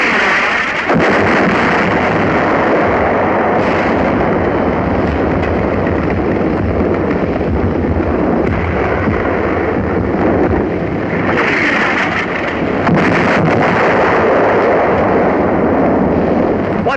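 Artillery fire and explosions in a North African battle with tanks: dense, continuous loud rumbling barrage with overlapping blasts and crackle, sustained for the whole stretch with no pauses, nearby and overwhelming.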